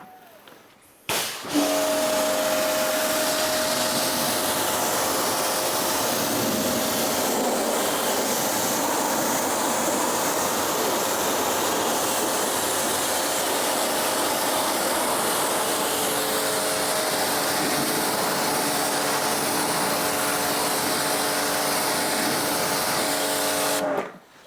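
A pressure washer with a wide fan nozzle rinses wheel cleaner off a car wheel, a loud continuous close hiss and spray starting abruptly and running steadily for over twenty seconds before cutting off.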